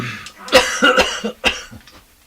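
Several harsh coughs burst out close by in quick succession, a few louder hacks followed by smaller throaty ones trailing off.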